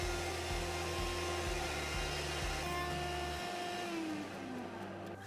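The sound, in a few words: router table cutting a groove in oak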